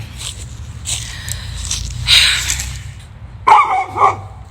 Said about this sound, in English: Here comes this dog trying to interrupt me.